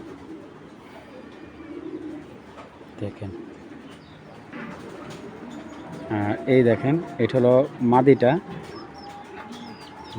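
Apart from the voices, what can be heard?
racing pigeons cooing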